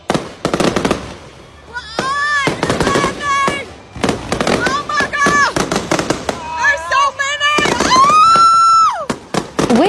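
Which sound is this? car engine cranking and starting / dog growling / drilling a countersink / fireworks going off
fireworks going off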